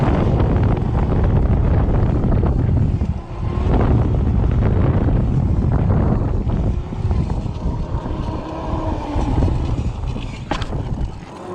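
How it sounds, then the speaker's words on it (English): Happyrun G50 electric bike riding on a road while attempting wheelies, a constant loud rush of wind buffeting the microphone over a rolling tire and motor hum, with brief dips in level. "Let's try to get some wheelies on this road."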